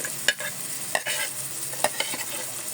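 Onions and other tofu sisig ingredients sautéing in a pan, a steady sizzle broken by a few sharp scrapes and stirs of a utensil, close and fairly quiet with no talking.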